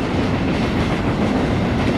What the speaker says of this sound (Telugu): చూడండి ట్రైన్ వీల్స్ కూడా అంత రియలిస్టిక్గా తిరుగుతున్నాయి